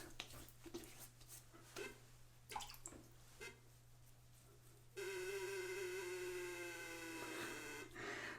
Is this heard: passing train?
no